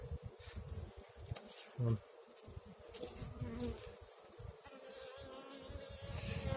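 Steady droning hum of many honeybees buzzing close by at hives just set out from winter storage in spring, continuous and fairly loud, with brief rustling and no talking.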